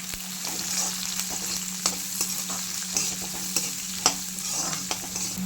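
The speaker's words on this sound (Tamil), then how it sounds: "அதையும் நல்லா போட்டு நல்லா கோல்டன் ஃப்ரை வர வரையும் நம்ம" Two large cut onions fry toward golden in a pan for a goat head curry, a dense continuous sizzle with light stirring taps, close and steady, no voices.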